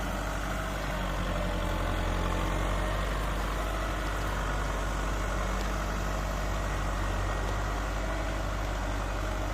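A heavy farm tractor engine pulling a three-disc plow to prepare soil for sugarcane runs steadily at a close, constant low rumble, with no voices.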